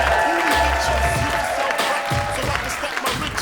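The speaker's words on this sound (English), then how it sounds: "Start clapping right now for Matt Brown." A comedy club audience clapping and cheering for stand-up comedian Matt Brown, applause mixed with crowd noise and a loud voice talking over it.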